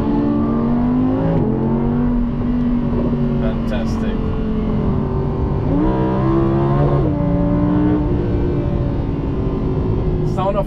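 A 2016 Audi R8 V10 Plus sports car accelerates on a road in Portugal, its loud engine note climbing and falling through gear changes over a constant drone, while a person briefly speaks.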